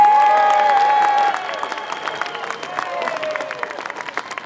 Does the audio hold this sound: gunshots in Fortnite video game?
no